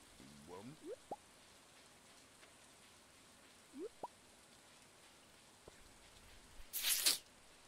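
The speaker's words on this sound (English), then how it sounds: "It's raining out." In the video game Stardew Valley, soft steady rain patters in the background, with a burst of louder hiss near the end and a few faint blips over it.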